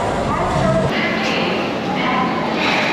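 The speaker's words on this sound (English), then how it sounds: "Oh, look at them puppies, look." Puppies barking and yipping amid a busy, noisy street scene in Calcutta, with people talking nearby throughout.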